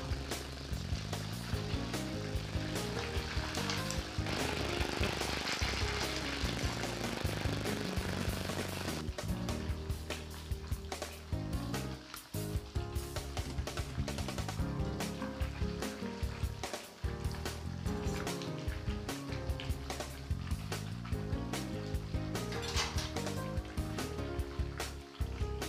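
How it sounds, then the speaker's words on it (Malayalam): A whole stuffed chicken deep-frying in hot oil sizzles loudly and steadily for around twenty-five seconds, a dense continuous crackle with no voices. "രണ്ട് സൈഡും ഫ്രൈ ചെയ്തെടുക്കണം."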